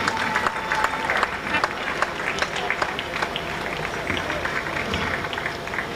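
A crowd at Jamaica Carifta Games athletics trials applauds steadily, continuous clapping carrying on under a commentator's voice.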